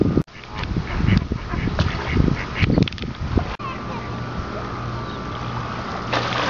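Ducks and geese being fed at the New Jersey shore quack and honk in a busy flurry near water, with people's voices mixed in before a steadier hum takes over.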